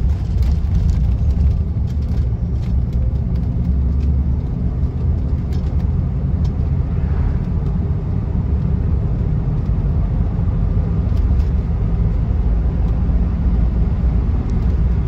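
A 1976 Rolls Royce Silver Shadow pulls away with a steady, low engine rumble and road noise, heard loud and close from inside the car, with no talking.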